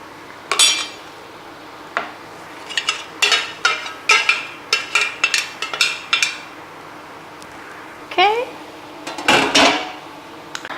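Steamed fish is scooped onto a plate with a utensil, making a run of sharp metallic clinks and scrapes against crockery that come in irregular bursts, close and fairly loud, with short quiet gaps between them.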